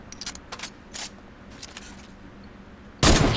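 Gunfire in the Fortnite video game: faint scattered shots and clicks at first, then a sudden loud, dense burst of shots close by at the very end, with no talking.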